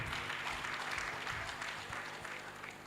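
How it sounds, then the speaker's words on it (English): Audience applause at a children's book launch, a full steady round of clapping at a fairly low level, fading slightly toward the end. "A round of applause for them,"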